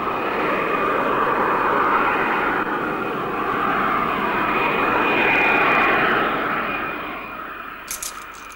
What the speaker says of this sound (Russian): наш самолет совершил посадку в международном аэропорту Шереметьево-2 города Москвы